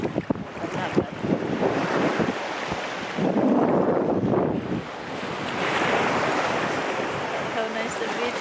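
Surf washing onto a sandy beach with steady wind buffeting the microphone, waves swelling and breaking in a continuous loud roar with no voices.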